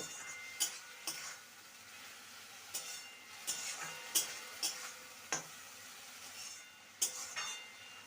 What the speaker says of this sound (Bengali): মূলো শাকটাকে ভালো করে নেড়ে নিয়েছি